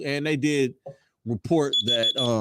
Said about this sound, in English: shut up. That's my alarm.